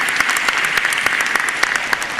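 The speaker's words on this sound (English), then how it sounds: "Round of applause once again for Dr. Stanford." An audience at a lecture gives a round of applause after the talk, a dense, steady clapping that carries loud and even throughout.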